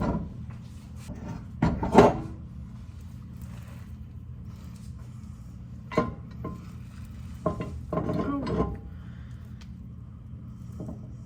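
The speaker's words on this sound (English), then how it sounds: "let's get this dumped out into our pan" A thick nut butter and chocolate chip mixture is scraped from a bowl into a parchment-lined pan, giving a few scattered scrapes and dull knocks at close range, with the loudest burst early and quieter ones later, and no talking.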